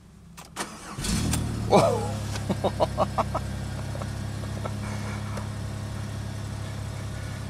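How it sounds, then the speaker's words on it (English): A car's engine cold-starts on an old, weak junkyard battery: a quiet starter crank catches into a close, steady idle with a few sharp revs. One brief exclamation is voiced over the start. "This car never fails to surprise me when it comes to cold starting."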